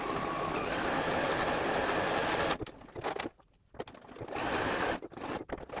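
A sewing machine stitches appliqué on a quilt block, a close, loud continuous motor whir with rapid needle chatter that stops briefly and then resumes in short bursts.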